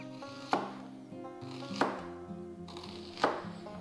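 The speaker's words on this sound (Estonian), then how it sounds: "Kui on sibul selline väiksepoolne, võib teha rattad, võib ka lihtsalt ribad lõigata." Three slow, separate knife chops through a red onion on a cutting board, each a crisp thunk set against soft background music.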